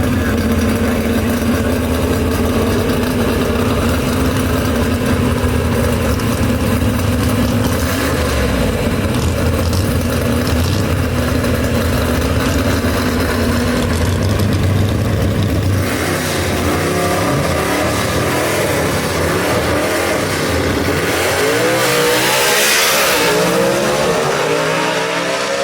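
Gasser drag race cars idle with a rough, lumpy throb at the strip, then rev hard in rising and falling bursts, loud and close, the engine roar building sharply toward the end.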